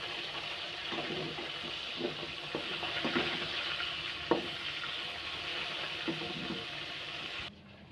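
Rohu fish frying in a pan gives a steady, soft sizzle with a few light scrapes and clinks close by, then it cuts off abruptly near the end.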